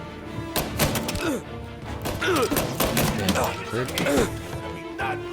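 Gunfire in the Mafia video game: several sharp shots scattered through a busy combat scene, mixed with thuds and impacts, with someone speaking over the action.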